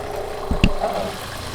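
Water starts running through the restored plumbing of a vintage RV camper, beginning with two short knocks and then settling into a low, steady flow; no voices are heard.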